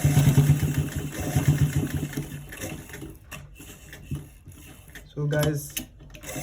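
A sewing machine stitches down an inner front pocket, whirring in bursts loudest at the start and briefly again near the end, close by, while someone talks over it.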